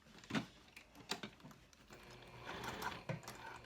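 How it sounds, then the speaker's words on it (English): A sewing machine runs short bursts of stitching along a backpack gusset while the piece is held in place for a Range Backpack. The machine whirs quietly and close, with brief pauses and soft mechanical clicks between runs. "So I'm going to put just a quick line of stitches here just to hold this in place."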